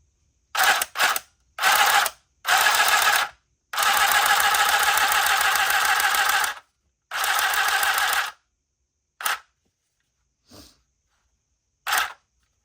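A small handheld sewing machine buzzes in short, rapid back-and-forth stitching bursts separated by silences, with a few brief clicks toward the end.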